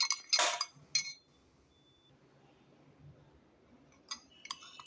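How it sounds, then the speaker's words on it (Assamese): A spoon clinks sharply against a coffee cup while coffee is whipped until frothy, with a few bright, close strikes at the start, a quiet stretch, then more clinks at the end. "যেতিয়ালৈকে ফেন নুঠে আৰু বগা নহয় তেতিয়ালৈকে মই কফি আৰু হেৰি নকৰোঁ"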